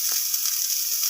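Tomato, ginger, garlic and cumin roast in a pan for Maharashtrian misal, giving a steady, close, continuous hissing sizzle with a brief stirring scrape.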